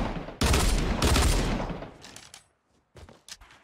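Gunshots in the battle royale video game Fortnite: a loud, close burst of rapid fire opens, a second burst follows, then the sound fades to near silence before a few sharp, isolated shots and clicks near the end.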